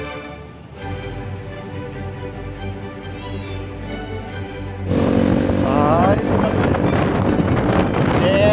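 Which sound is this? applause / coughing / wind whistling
wind whistling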